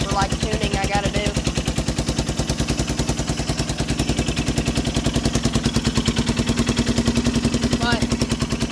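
A four-wheeler ATV engine runs off choke, a steady rapid popping idle with a fast regular pulse throughout, loud and close, with no talking.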